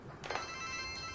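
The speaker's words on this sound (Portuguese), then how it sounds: "Danilo, o telefone tá tocando" A telephone rings once indoors, a short bright electronic trill that lingers briefly, fairly clear against quiet room tone.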